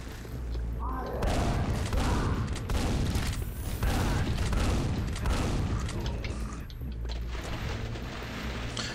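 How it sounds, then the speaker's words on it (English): Super shotgun, a double barrel, blasting repeatedly in Quake, heavy booming shots in quick succession over a constant loud game soundscape with layered rumble, dense and close throughout. "let's get the super shotgun, a double barrel"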